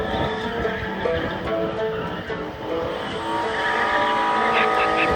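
A Toyota Hilux drift car skids on a paved road on private property, with engine roar and screeching tire squeal that build steadily and stay loud throughout.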